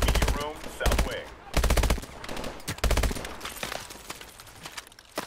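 Rapid automatic gunfire in Call of Duty Advanced Warfare, with several loud bursts of fast shots separated by short pauses and a trailing, busier mix of fainter shots toward the end.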